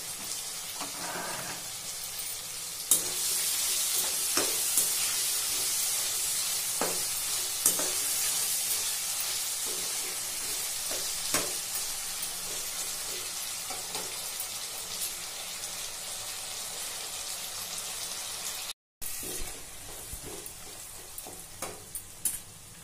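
Vegetables frying in a pan for a broken wheat vegetable biryani, a continuous bright sizzle with occasional stirring scrapes, close and steady, cut off by a brief silence near the end and then resuming.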